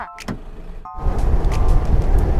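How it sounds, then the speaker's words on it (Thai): A 2022 Nissan Terra engine is started: two short electronic chimes, then the engine catches and settles into a close, steady rumble. "แล้วสตาร์ทรถค่ะ"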